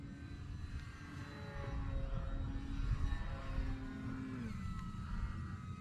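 An Arrows RC Tecnam 2010 model airplane flies in calm air on its landing approach, with a steady motor drone whose pitch shifts and falls as it comes in.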